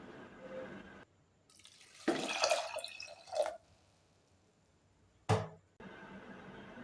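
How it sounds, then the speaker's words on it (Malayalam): Water is poured into a pot of dal with fenugreek leaves in a couple of splashy bursts, close and moderately loud, followed by a short sharp drip or splash, between quiet pauses. "ഇനി ഇതിലേക്ക് വേവാൻ ആവശ്യത്തിന് വെള്ളം ഒഴിച്ചു കൊടുക്കാം"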